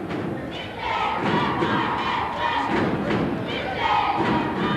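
Norristown cheerleaders chant in unison during a 1995 high school boys basketball game in a gym, rhythmic shouted cheers with stomping thuds over steady crowd noise and a commentator's voice.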